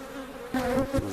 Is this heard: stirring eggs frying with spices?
no